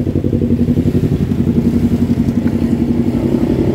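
Loud, steady engine rumble with a rapid pulsing throb, like motorbikes and vehicles crowding close by on a bridge approach in Malabon, continuous throughout.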